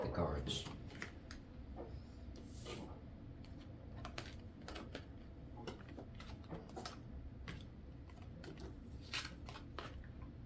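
Tarot cards are handled and shuffled up close, giving a steady run of soft slaps, slides and riffling flicks that stay fairly quiet throughout.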